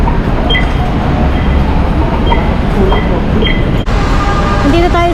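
Steady rumble of an MRT metro train at a Manila station, with a constant low roar, faint squeals and brief beeps over the noise.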